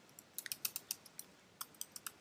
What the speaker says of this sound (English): I'm going to type JMeter